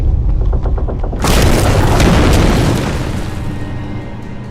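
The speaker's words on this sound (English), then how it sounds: "I'll see if I can gather them all in one corner and use the flare gun." A flare gun fires in the Alan Wake video game: a loud, booming burst breaks through a low rumble and then fades slowly in a long roaring tail.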